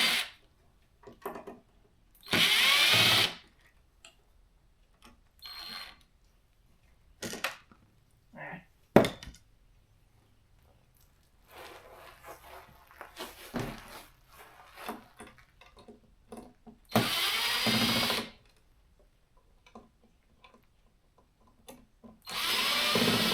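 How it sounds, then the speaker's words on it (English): A powered screwdriver, used as a Phillips driver, backs screws out of the feet of a Roku TV, with several loud whirring bursts separated by quiet gaps, small clicks and handling noises. "first thing I'm going to do is take the feet off this thing. I use my Phillips unscrewdriver."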